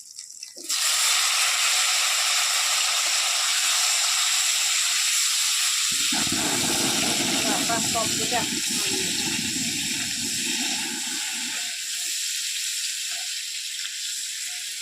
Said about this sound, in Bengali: এবার প্রথমে আমি আলুগুলো কষে নিই